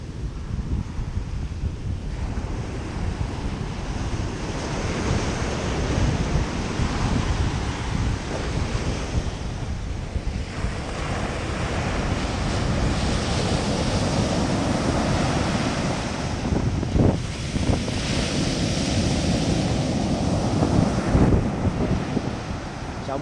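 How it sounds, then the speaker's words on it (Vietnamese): Strong, large sea waves at Nha Trang beach after a storm crash and surge in a continuous loud roar, with wind buffeting throughout and no voices. "biển Nha Trang sóng còn rất là mạnh luôn, sóng rất là lớn"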